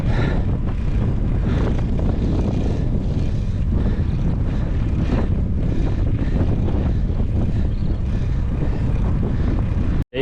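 Strong headwind and crosswind buffeting a microphone while cycling on a long-distance ride across Iowa, a loud, unbroken roar of rumbling wind noise throughout.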